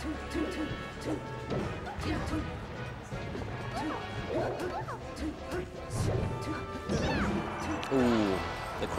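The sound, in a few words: down smash attack hit in Super Smash Bros. Melee video game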